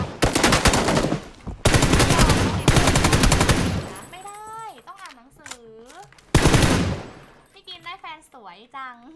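Video game machine gun fire bursts out in loud, dense rattling volleys, alternating with stretches where a voice talks excitedly over the gameplay.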